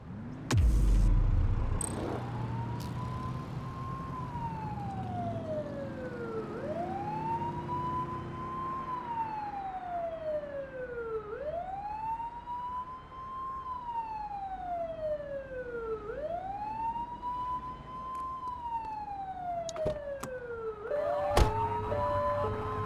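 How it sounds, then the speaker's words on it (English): A police siren in the video game The Precinct on PlayStation 5 wails in slow, repeated rising and falling sweeps, steady and fairly loud under a low engine hum, with no one speaking. "turn that siren off. We don't need it on right now."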